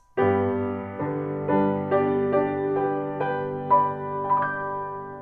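Slow piano chords in a hymn ending, each rolled upward from the bass, ringing and overlapping in a gentle close.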